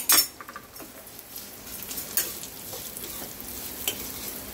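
Vermicelli roasting in ghee in a pan, stirred with a utensil: a soft, steady sizzle under repeated scraping and clinking strokes of metal on the pan, close and moderately loud, with no talking.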